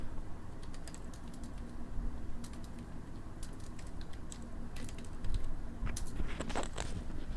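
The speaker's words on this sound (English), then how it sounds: "Now let's type a line which will select the multiple cells." Steady, fast typing on a computer keyboard while entering a line of VBA code, with rapid close key clicks running continuously and a few louder keystrokes near the end.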